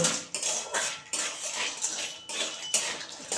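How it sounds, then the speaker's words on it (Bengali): Pasta tossed in melted ghee in a pan, with repeated metallic scraping and clinking of a utensil against the pan in irregular bursts, close and moderately loud, no talking. "এবারে এই পাস্তাগুলো দিয়ে দিচ্ছে আমার মধ্যে একটু ভালো করে একটু ভেজে নেব ঘি"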